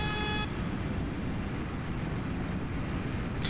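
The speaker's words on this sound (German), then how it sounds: "Das ganze Gehupe ist schon ein bisschen anstrengend." A horn honking continuously from a BR 218 diesel locomotive hauling Silberlinge coaches on the Horlofftalbahn, heard from aboard the train. A loud, dense, unbroken roar fills the whole stretch, with a clear tonal blast at the very start.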